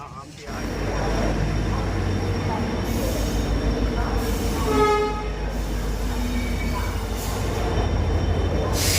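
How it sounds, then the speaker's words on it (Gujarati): A train rolls steadily past at Veraval railway station with a loud low rumble and high squealing wheels, the clatter continuing throughout while voices murmur underneath. "તો આ છે અમારી ટ્રેન"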